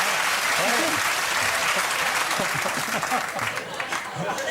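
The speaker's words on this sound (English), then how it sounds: "Don't clap that." Steady applause from a stand-up comedy crowd continues throughout, thick and close, with murmurs and faint voices under it as the clapping slowly tapers slightly toward the end.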